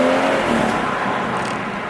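A BMW with the B58 straight-six engine and its standard exhaust burbles in a steady, rumbling drone, heard from inside the car with the windows down.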